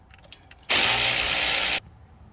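A power tool loosens 10 mm bolts on a Kia Sedona strut in one loud, steady burst of about a second, with quiet clicks just before and after.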